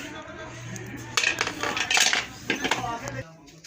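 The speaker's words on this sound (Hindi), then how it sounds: "अब हम कुकर को उतार लेंगे, कुकर के ढक्कन को उतार लेंगे।" A pressure cooker lid is lifted off after boiling potatoes in a home kitchen, giving a few metallic clinks and clatters of lid against pot, close and fairly loud over a low steady hum.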